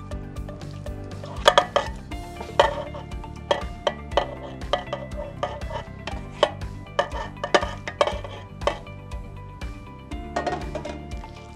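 Salmon being worked into lime rillettes in a bowl with utensils: steady scraping and stirring with repeated sharp taps and clinks of metal against the bowl, close and moderately loud, with no voices.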